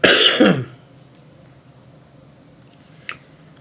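One loud, harsh cough up close at the start, then quiet room tone and a small click later.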